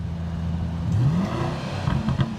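Mercedes-AMG GLE63 V8 engine revving briefly, a close rising rev that climbs and settles, with a rumbling idle around it.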